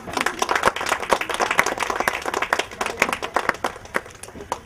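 A crowd claps loudly and steadily in dense, continuous applause congratulating a retiree, with no voices over it.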